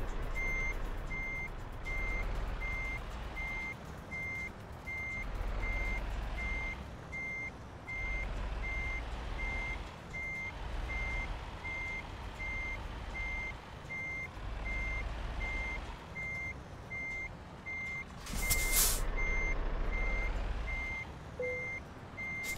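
A truck in Euro Truck Simulator backs up with an evenly spaced reversing beep repeating throughout over a low diesel engine rumble that rises and falls. A short burst of air-brake hiss comes near the end, no talking.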